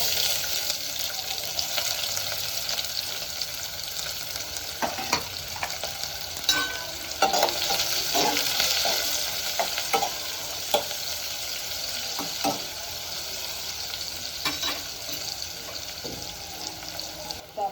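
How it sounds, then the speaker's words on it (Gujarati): Onion frying in a pan of oil with dry chilli, bay leaf, asafoetida and garam masala, giving a steady, full sizzle throughout, broken by recurring spoon scrapes and clatters from stirring. "અને પહેલાં આપણે ડુંગળીને ચડાવવા દઈશું."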